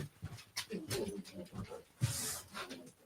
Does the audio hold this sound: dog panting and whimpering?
yes